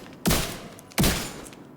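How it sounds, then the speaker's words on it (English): Two loud, close Scorpio shotgun blasts in The Division 2, about three-quarters of a second apart, each with a heavy boom and a decaying tail. "I will show you how many shots it takes to kill an elite with the Scorpio"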